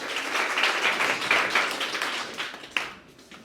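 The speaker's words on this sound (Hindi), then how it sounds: "इनके लिए जोरदार तालियां।" An audience of children at a classroom or school session claps hard and fast in dense, steady applause, then it thins out and ends with a few last claps.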